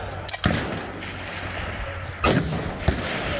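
Precision rifle shots fired through an API Gen 3 Fat Bastard muzzle brake at a GAP Grind PRS match, three loud sharp reports spaced about a second apart over steady outdoor background noise.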